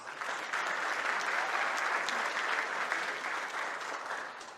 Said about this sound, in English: go ahead and clap it up, guys.